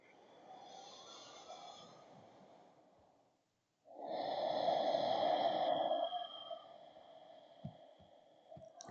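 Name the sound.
deep breathing during yoga practice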